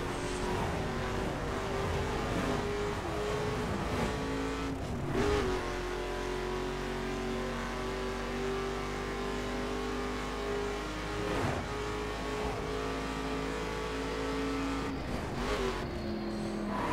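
Car engines hum steadily in congested traffic on the Golden Gate Bridge in the open-world driving game The Crew, a continuous drone of idling and creeping vehicles with occasional louder passes, and no talking.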